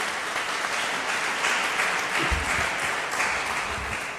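An audience at an annual convention of Friulians abroad applauds the world's youngest Fogolar club president. The clapping is dense and continuous and stays loud from start to finish.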